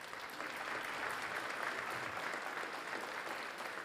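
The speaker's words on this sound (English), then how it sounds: "How about another round of applause for Steve?" Applause from an audience at a public safety awards ceremony, a steady even wash of many hands clapping at moderate distance, sustained without a break and with no talking over it.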